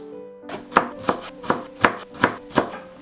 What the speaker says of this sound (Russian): И сейчас нарезаем тоже кубиками 1 перчик сладкий.